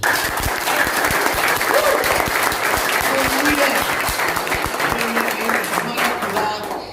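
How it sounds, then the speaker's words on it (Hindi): A church congregation applauds loudly and steadily for several seconds, a dense wash of many hands clapping with a few voices faintly rising through it. "देखना चाहता हूँ कि आप लोग कितना जोर से ताली बजाते हैं"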